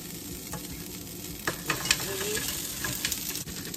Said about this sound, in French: je vais mettre les crabes à griller